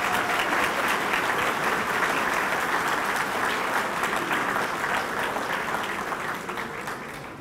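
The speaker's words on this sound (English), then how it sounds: "let's give a round of applause to all of those firefighters this evening" Loud, sustained round of applause from a crowd at a fire fighters awards event, thick continuous clapping that stays strong for several seconds before tapering slightly near the end.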